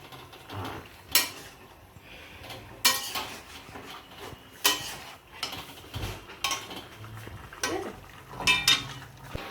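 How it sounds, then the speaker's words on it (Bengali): A large pot of chicken pieces being stirred while frying in a rice cooker, with repeated metallic clanks and scrapes of a spoon against the pot in irregular bursts over faint background sizzle, close by and without speech. "এতটা মাংস খেয়ে নিয়ে অনেকটা মাংস, তাই জন্য একটু নাড়তে অসুবিধা হচ্ছে"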